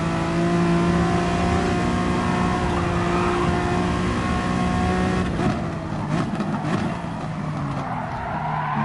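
Race car engines on a road track in GT Sport, with a steady loud harmonic drone that shifts pitch as the car slides, joined after a few seconds by rougher tire scrubbing and revving.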